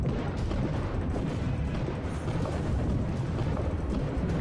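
Heavy underwater cannon fire from a submarine's nacelle gun in the game Diluvion, a loud continuous rumble of booming blasts that fills the whole stretch with no pauses.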